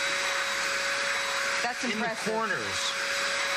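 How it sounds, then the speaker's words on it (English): A Princess Turbo Tiger handheld vacuum cleaner runs continuously with a loud, steady high-pitched whine and airy roar as it cleans stair corners and rails, while someone speaks briefly over it. "With the Princess Turbo Tiger, you're getting in the areas that my conventional vacuum cleaner never could get into."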